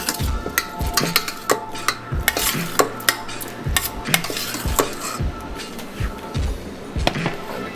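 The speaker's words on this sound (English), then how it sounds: "I'll stir that around." Red peppers and celery are stirred into an eggplant and pork stew in a pot, with a utensil scraping and clacking against the metal in quick irregular strokes over a faint sizzle, close up.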